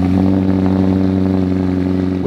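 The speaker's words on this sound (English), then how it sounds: "With 804 horsepower and an exhaust note straight out of an F1 circuit" A McLaren Elva, an 804-horsepower open-top supercar on a Pacific coast road, gives a loud, steady engine exhaust note with a strong low drone that holds throughout, close and unbroken.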